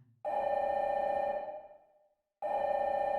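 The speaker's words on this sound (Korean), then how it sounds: "전화벨 소리가 울렸다" A telephone bell rings loudly in a long trill, fades out, then starts ringing again after a brief pause.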